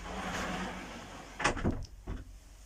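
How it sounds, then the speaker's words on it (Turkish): A sliding bedroom door in an alcove caravan rolls and clicks shut, a short bump followed by a couple of lighter knocks after a stretch of soft background noise. "Kapıyı kapattığınız zaman o bölüm tamamen ayrılıyor."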